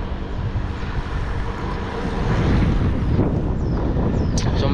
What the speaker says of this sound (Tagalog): So malakas yung hangin, men.